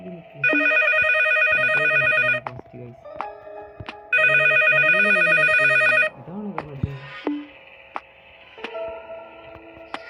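A mobile phone rings inside the horror video game Endless Nightmare, with two long bursts of a bright electronic ringtone. A person talks over and between the rings, and other faint game sounds follow.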